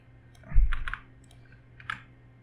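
Keystrokes on a computer keyboard while SQL insert commands are entered, a short cluster of a few light taps followed by one more tap, quiet and close with no talking.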